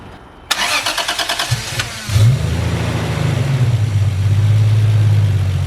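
A Toyota Supra engine is cranked with a rapid rhythmic starter chug for about a second and a half, then catches and settles into a loud, steady low idle that rises slightly toward the end.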